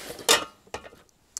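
Stackable metal camping cooking pots with lids knocking together: one sharp loud clatter, then a second lighter clink and a brief final tap, close by with quiet gaps between, no speech.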